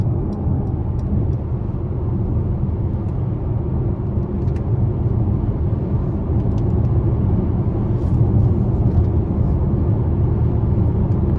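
Cabin sound of a 2023 Mercedes-AMG GLC 43 Coupe with a 3.0 twin-turbo engine cruising on a highway in comfort mode: a loud, steady low road-and-engine rumble that holds without a break.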